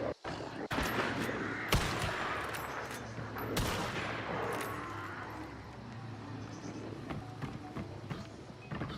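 Gunshots in the Slippin Jimmy video game, a few sharp cracks standing out over a constant busy background of movement and noise, with faint talk at times.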